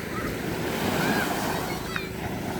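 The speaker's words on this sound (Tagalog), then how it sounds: "alon ng dagat." Sea waves washing ashore in rural Aklan, a loud steady surf roar mixed with gusty wind buffeting the microphone, a brief faint chirp near the end.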